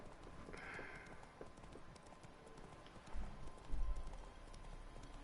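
Hooves of the horse Roach clip-clop in The Witcher 3, faint steady footfalls with a few heavier thuds, under soft ambient game noise.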